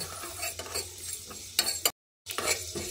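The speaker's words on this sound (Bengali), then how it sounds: "এবার গ্যাসের ফ্লেমটা অন করে লো টু মিডিয়াম ফ্লেমে গোলমরিচ, মৌরি আর শুকনো লঙ্কাটাকে ভেজে নিচ্ছি" Black pepper, fennel seeds and dried chilies dry-roasting in a pan over a low-to-medium gas flame, with soft scraping stirs and a few sharper clinks of a spoon against the pan, cut by a brief silent gap.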